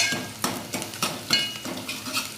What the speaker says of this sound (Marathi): चांगला तळू द्यायचा कांदा